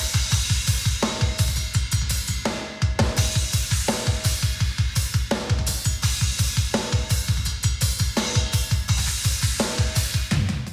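A full recorded drum kit with overhead microphones, mixed, pounds out a fast, steady pattern of rapid kick drum hits under bright crashing cymbals and snare accents, loud and continuous throughout.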